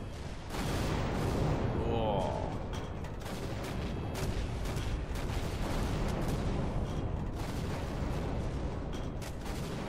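In a Garry's Mod battle, tanks fire at alien tripods, producing repeated distant booms and cannon blasts over a dense rumbling battle din lasting several seconds.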